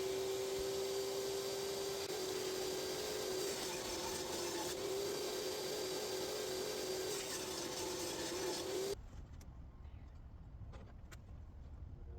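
A power saw cutting wood strips for a DIY wooden American flag, with a loud, steady whining buzz for about nine seconds before it stops abruptly and leaves quieter room noise.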